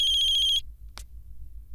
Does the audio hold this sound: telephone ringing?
yes